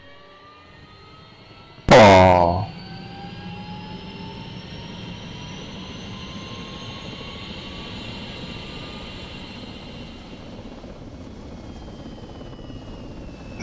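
Lynx AH7 helicopter engines spinning up in FlightGear: a brief loud click-like burst, then a steady turbine whine slowly rising in pitch over a low hum, with one short exclamation from a voice.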